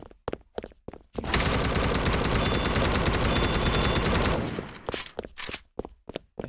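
Sustained automatic gunfire in the Roblox game Randomizer bursts in loud and dense for about three seconds, then stops, leaving scattered softer clicks and taps on either side.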